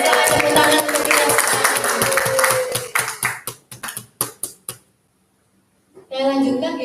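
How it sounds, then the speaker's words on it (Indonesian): Clapping from a group fills the first seconds, then thins to a handful of separate claps before falling silent; a voice follows briefly. "tepuk tangan untuk kita"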